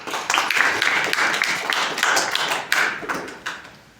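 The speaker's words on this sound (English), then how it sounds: "it also requires a big round of applause for all the students" An audience at a university moot court competition claps for the student advocates: dense, close applause that stays strong, then thins and fades toward the end.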